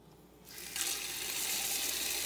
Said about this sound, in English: Now we're gonna take our pot filler